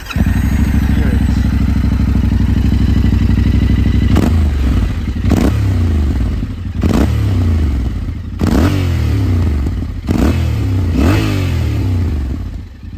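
Yamaha Ténéré 700 World Rally, 2023 model, with a factory Akrapovic silencer, idles with a steady throb, then gets a series of sharp throttle blips that rev up and fall back, loud and close, with no talk.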